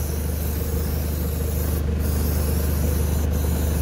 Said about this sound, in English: Shake the product and just spray.